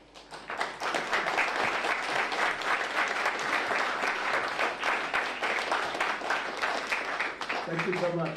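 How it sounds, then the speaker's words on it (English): Warm, sustained applause from a public assembly audience welcoming a speaker, a dense wash of many hands clapping that swells in quickly and holds steady, with a voice faintly audible near the end. "Thank you for your kind applause"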